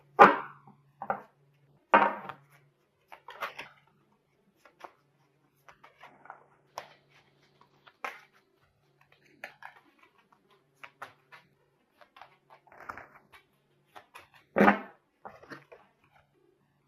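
Tarot cards are shuffled and pulled during a reading. Near and quiet, there are scattered soft slaps and brushes of the cards with silences between them, and a few sharper snaps stand out at the start and near the end.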